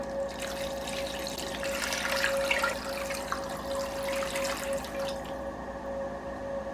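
One to two liters of water pour into a cooking pot holding a ham bone for beer soup: a steady splashing trickle runs for several seconds under a faint constant hum, with no talking.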